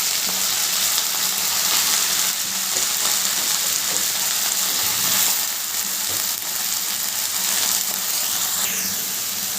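Drumstick leaves sizzle steadily in a pan of hot oil with fried garlic, a close, continuous crackling hiss with no talking.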